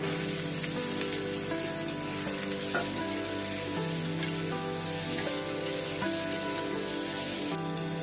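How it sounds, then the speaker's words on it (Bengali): Boiled potatoes frying in a pan with ginger paste, a continuous close crackling sizzle with occasional stirring scrapes. "এবারে আমি 3 মিনিটের মতো আলুটাকে ভেজে নিব।"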